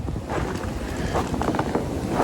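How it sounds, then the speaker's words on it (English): Strong wind roars steadily at a frozen cabin during a severe winter storm at about 1 degree Fahrenheit, loud, broadband and gusting, buffeting the microphone throughout with no talking. "And it's really windy."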